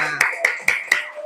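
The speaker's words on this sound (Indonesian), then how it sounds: "Tepuk tangan untuk kita semua." Four evenly spaced claps of hands in a classroom, a short loud rhythmic burst close to the listener.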